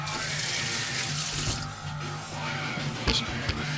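Tap water runs steadily into a sink while a corn cob pipe is washed, a close continuous hiss and splash with a few brief clunks toward the end.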